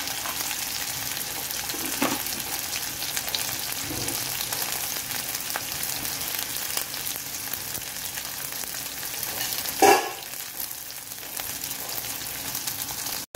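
Peanuts and cashews fry in oil for godhuma rava upma, a soft steady sizzle with occasional stirring scrapes and one louder clank near the end.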